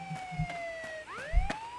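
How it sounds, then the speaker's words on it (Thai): A police siren in the video game Contraband Police wails loudly in sweeping up-and-down tones, with a few thumps around it. "โคตรเสียงดังอะไซเรนอะ"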